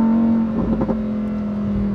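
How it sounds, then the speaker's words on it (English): A Lamborghini Huracan STO V10 holds a steady engine drone from inside the car, broken by a quick flurry of shift blips in the middle, with no talking. "The shifts, listen to these sound shifts. Instant."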